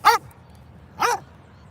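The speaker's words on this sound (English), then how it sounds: "that's what he's barking for" A dog barks twice, loud and close, with a short pause between the sharp barks.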